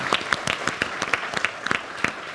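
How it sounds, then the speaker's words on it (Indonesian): An audience at a year-end political gathering in Indonesia claps in scattered, crisp, close claps with a loose irregular rhythm and a faint murmur of voices under the applause. "Kita kasih tepuk tangan dong buat semua."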